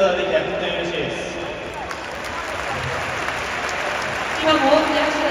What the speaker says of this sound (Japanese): 今も大きな拍手ですけど